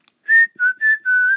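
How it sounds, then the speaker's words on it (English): Someone whistles a short tune up close, four clear sustained notes in a row with small pitch slides between them. "from now on I'm going to start whistling."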